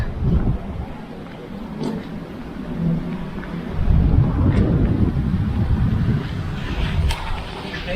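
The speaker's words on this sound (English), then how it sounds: "And that is a chill, wet wind." Chill, wet wind blowing outdoors in the Czech Republic, buffeting the microphone with low rumbling gusts that swell and ease over several seconds, fairly loud and close.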